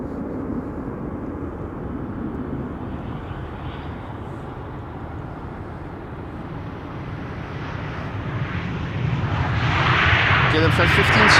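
KLM flight 1570 from Porto arrives at Amsterdam Schiphol Airport. A broad, steady jet rumble with some wind buffeting on the microphone swells louder toward the end as the airliner approaches.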